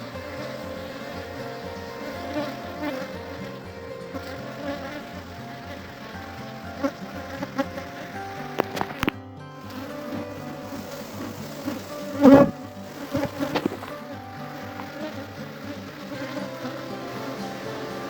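Honeybees drone in a sustained, even buzz at an opened hive, close and steady throughout, with a few brief knocks and clicks of handling near the middle and toward the end.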